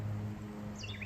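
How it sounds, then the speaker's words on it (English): Birds chirp faintly in a backyard, with a couple of short high tweets over a low steady background hum. "You can hear the birds singing."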